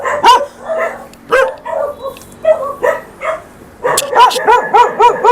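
Several large dogs bark in repeated loud bursts, close by, ending in a rapid run of overlapping barks and yips.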